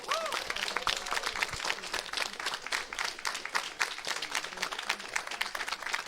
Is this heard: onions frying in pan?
no